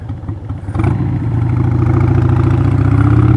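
A 1998 Harley-Davidson XL1200C motorcycle engine, still cold, idles steadily close by, with a brief clatter as it settles in before a loud, even, throbbing idle continues on its own.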